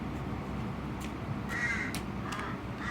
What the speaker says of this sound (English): I'm sorry about the noisy birds in the background.